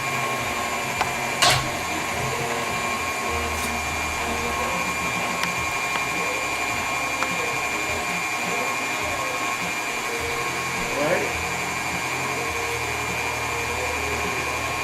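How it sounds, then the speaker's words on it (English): An electric meat grinder works through pork for homemade sausage, a loud, steady motor drone that runs the whole time with a few sharp clicks and knocks near the start and middle. "It's going to take a second just for to get enough meat into the grinder just to make it go all the way down."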